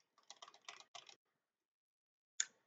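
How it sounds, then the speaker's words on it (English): Fingers tap a computer keyboard in a short burst of quick, close keystrokes, then stop; after a pause, one sharp final key press lands alone in an otherwise silent room. "by typing in here"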